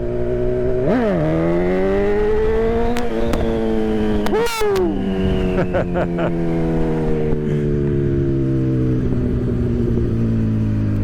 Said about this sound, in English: Going about 20, 25. We're ready for a wheelie.